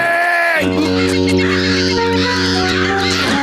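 Cartoon pet clams in SpongeBob SquarePants squawk loudly in a continuous, honking, bird-like chorus up close, with no speech over it.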